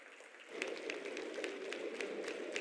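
Scattered audience clapping welcoming Prime Minister Narendra Modi at the India Mobile Congress 2023 inauguration. After a quiet start, individual claps begin and continue as a loose, uneven patter, moderately distant.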